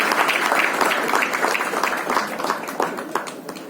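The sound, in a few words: applause for the Honorable Minister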